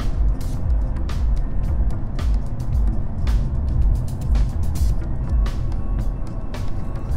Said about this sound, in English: when he hits the gas, yep, you can hear the exhaust